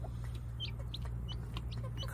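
A mother hen with her naturally hatched chicks makes faint, quiet clucks while the chicks give repeated high, thin peeps over a steady low hum.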